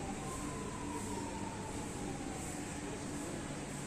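A metro train arrives at a station platform, heard as a steady loud rumble and hiss with a faint high whine gliding downward as it slows, continuous throughout.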